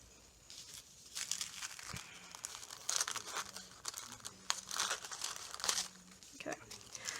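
Tissue paper being cut and trimmed off a stamped candle, close papery crinkling and snipping in irregular bursts, quiet overall, with a voice speaking in the background.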